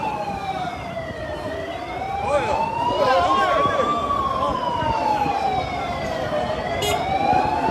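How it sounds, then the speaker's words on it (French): An ambulance siren wails in a rising and falling sweep as it tries to pass through a street blocked by a large protest march in Algiers, with crowd and traffic noise underneath and a voice talking. "Donc il y a l'ambulance qui tente de passer."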